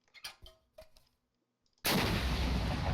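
Weapons in the Minecraft Flans mod are fired at a hardwall, with a few quiet thuds and clicks followed by a sudden loud, sustained explosive blast that fills the rest of the clip.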